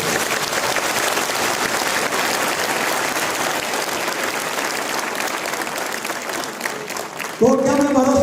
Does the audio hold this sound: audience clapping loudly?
yes